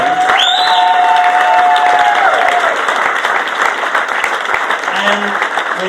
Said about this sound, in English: I think it's a very big round of applause for the fantastic achievement you two guys have made